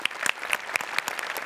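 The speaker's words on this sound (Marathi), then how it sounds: "जोरदार टाळ्या." Loud, dense audience applause at a Marathi comedy show, steady clapping filling the room with a few sharper claps standing out, no voices over it.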